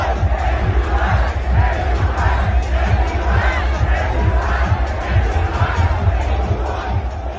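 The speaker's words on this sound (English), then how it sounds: "Gupta arrived on the stage to join Messi, the crowd began chanting AQI repeatedly." Stadium crowd in Delhi chanting in unison as the Chief Minister appears on stage beside Messi, a loud, dense mass of voices with a rhythmic pulsing chant running steadily throughout.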